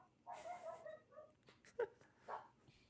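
A dog whimpers softly and gives a few short, faint yips and barks, spaced irregularly against a quiet indoor background with no talking.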